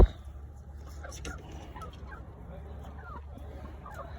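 A spring pullet chicken near a nest box makes a few soft clucks and short calls over a low background hum, fairly quiet and close.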